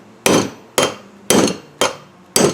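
Five sharp metal-on-metal hammer blows drive a punch against the thin end of a tapered drive pin on a classic 335 pedestal, struck at a steady, evenly spaced rhythm, close and loud with short ringing decays.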